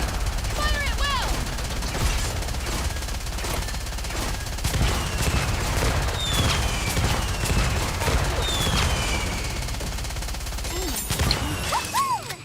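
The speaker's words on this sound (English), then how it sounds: "Fire at will." Rapid gunfire bursts and impacts from the mobile shooter game Nikke during a hard-mode Union Raid, dense and continuous with high whistling effects and crashes layered throughout, and a voice speaking now and then over the barrage.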